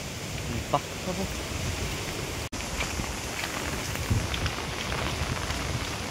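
Steady, dense hiss of rain falling all around, constant and close, with no clear voices over it.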